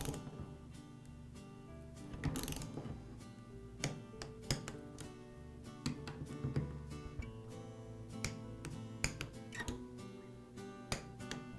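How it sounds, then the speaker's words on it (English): A torque wrench ratchets on the head bolts of a Porter Cable air compressor pump, with repeated close mechanical clicks and taps in irregular bursts, fairly quiet and without talk. "Now we'll torque these bolts to between 49 and 55 inch-pounds. I'll torque the head bolts in a crossing pattern."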